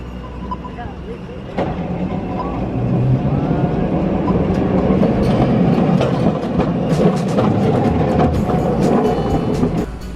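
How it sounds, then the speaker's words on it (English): A tram rolls along its rails on a city street lined with eateries, a rising steady rumble with rhythmic clickety-clack and faint squeals that grows louder partway through, with people talking over it. "iba na naman yung tram nila"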